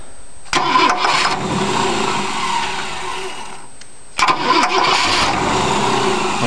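A rebuilt 1965 Ford 352 V-8 engine is cranked twice from a remote starter, each attempt a loud, close, whirring churn lasting several seconds with a brief gap between tries.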